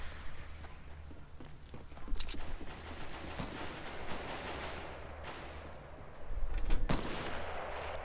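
Gunfire in a multiplayer shooter game, scattered sharp shots cracking over a constant rumbling background, with a couple of louder reports and a heavier burst near the end.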